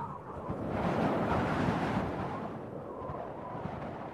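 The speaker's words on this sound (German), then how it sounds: "Wind und Sturm" Wind gusts in a storm, a broad rushing roar that swells loud and then eases into a steadier buffeting drone, with no voices heard.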